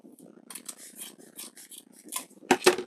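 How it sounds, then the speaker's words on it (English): Scissors snip through ribbon loops for an Easter wreath, a run of small close crisp cuts followed by two louder, sharper snips near the end, with no voices. "We're just going to take your scissors right down that loop, and we're just going to cut"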